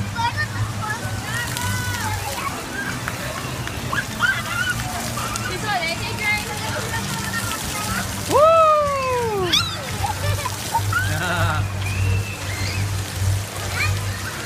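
Water sprays and splashes at a wet play area at Universal Studios, heard as a continuous hissing wash under children's squeals and adult voices.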